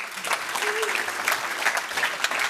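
An audience at a Suffolk Coast tourism gathering clapping in appreciation, a steady wash of many hands applauding throughout, fairly close and even, with a brief voice rising faintly under the clapping.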